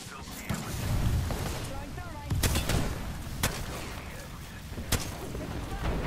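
Grenade blasts and gunfire in a shooter video game: several sharp, loud bursts break through a dense, rumbling battle din, with voices talking throughout.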